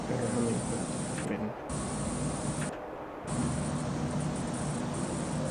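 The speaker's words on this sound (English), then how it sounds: "It sounds like nighttime. Like crickets." Steady high-pitched chirping like crickets at night, heard from a played recording, with a constant static hiss and low hum that briefly drop out twice before resuming.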